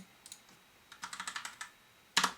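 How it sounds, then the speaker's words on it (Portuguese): Keys tapped on a computer keyboard in a quiet room, a short run of light clicks followed by one louder, sharper press standing alone at the end. "Vou dar um Enter aqui"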